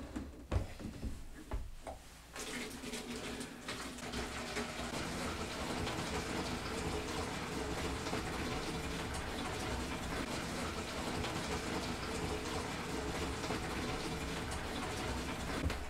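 Water gushes steadily through an opened drain valve into a gallon jug while cleaning a Kirmuss ultrasonic record cleaner, a continuous, close rushing fill that starts after a couple of quiet seconds and runs on without talk.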